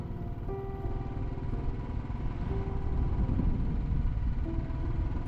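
A motorcycle descending a mountain road in Ladakh near Khardung La, its steady engine drone and low rumble continuous and close, with a faint tonal whine on top.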